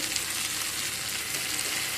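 Garlic and onion frying in a pan, a brief, loud, continuous sizzle heard close with a hint of stirring and no talking.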